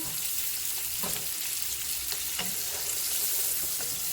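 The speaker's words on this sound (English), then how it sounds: "so I've still got my bacon grease in here. Very, very hot. I'm going to pour my onion in." Chopped onion sizzling in very hot bacon grease in a pan, a loud, dense, continuous frying hiss with a few soft scraping stir sounds, close up and without speech.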